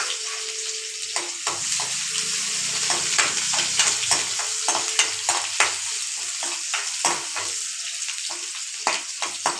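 Onions sizzle and crackle in hot tempering oil with cumin in a pan, a constant frying hiss broken by repeated scraping stirs, close and fairly loud, with no voices.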